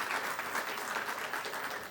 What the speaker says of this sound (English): Help me give yourselves a round of applause.